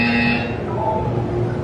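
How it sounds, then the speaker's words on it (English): A steady electronic buzzer tone from the video game Portal 2 holds for under two seconds, loud and continuous, with a higher whine fading out early. "You will hear a buzzer."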